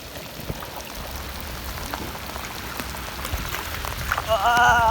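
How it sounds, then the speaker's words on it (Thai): Rain patters steadily on surfaces at a riverside resort, a soft even hiss of drops close by, with a faint tonal sound briefly rising near the end. "บรรยากาศดีมากแต่ฝนก็ตกด้วย"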